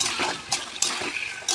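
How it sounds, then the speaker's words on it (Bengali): A little water is poured into a pan of frying potato curry, giving brief splashy hissing bursts in a short, close sequence without speech. "হালকা করে একটু জল ঢেলে দিলাম"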